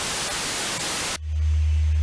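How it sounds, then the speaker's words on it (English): A Kenwood TH-F6A handheld radio with its squelch open gives off loud, hissing static for about a second, then cuts to a low, steady hum. "So I'm going to turn the radio on. Open squelch, of course,"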